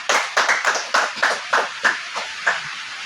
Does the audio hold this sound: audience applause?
yes